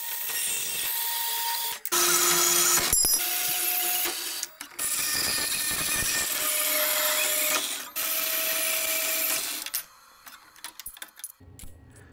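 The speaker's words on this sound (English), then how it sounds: "So I found this steel 2x4 and I'm cutting it" A power tool cuts through a steel 2x4 for a utility trailer build, giving several sustained, shrill grinding bursts separated by short pauses, loud and close, then tapering into sputtering noise at the end.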